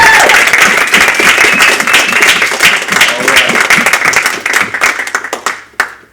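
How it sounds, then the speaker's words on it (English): Loud, dense applause and clapping from a high school poetry slam audience for the night's performers, a full crowd roar that thins and fades near the end. "give a round of applause for everyone that performed tonight"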